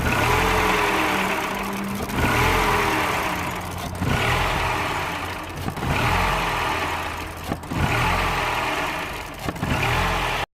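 A Mini One 1.4 N12 engine, running poorly and prone to stalling, idles steadily with a low, continuous rumble, rising slightly in a few brief surges, close by with no talking.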